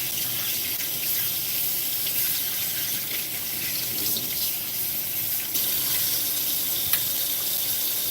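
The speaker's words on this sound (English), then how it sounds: "Let me go ahead and wash this off real quick." A kitchen tap runs steadily while something is rinsed under it, a constant loud hiss of splashing water with small shifts as the item moves through the stream, close by and without talk.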